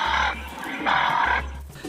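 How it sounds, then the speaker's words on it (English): A local dove species' call is played back during honey-hunting trips: low, hollow cooing phrases repeat about three times in two seconds, fairly close and clear. "the sounds of another bird, a local dove species"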